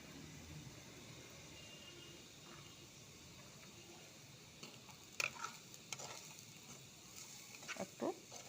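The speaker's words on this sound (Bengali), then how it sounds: "একটু ভেজে নিচ্ছি।" Ground spices with turmeric, cumin and coriander powder frying in a pan, a quiet steady sizzle with occasional soft stirring scrapes and clicks toward the end.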